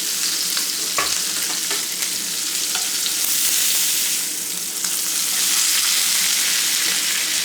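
Steaks sizzle and fry in a newly seasoned cast iron skillet, a loud, dense, continuous crackle close up with small spits and pops throughout, no talking.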